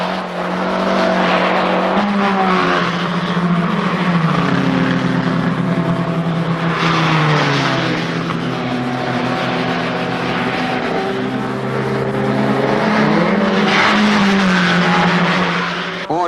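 Rally cars, GT cars among them and a Porsche, roar past at speed with sustained engine noise rising and falling through gear changes. The sound stays loud and continuous, with possible tyre squeal and faint commentary underneath.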